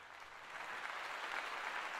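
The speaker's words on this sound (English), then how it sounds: "Let's all give Deanna a round of applause." An audience at a scout youth forum's opening session gives a steady round of applause, a dense, even patter of many clapping hands heard from a distance and fairly faint, with no talk over it.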